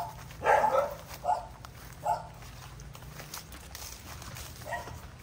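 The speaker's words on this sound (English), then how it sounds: "and there you go, there's a dog" A dog on a rural farm property in Lipa City, Batangas, gives a few short, sharp barks at a moderate distance, spaced apart over a low outdoor background hum.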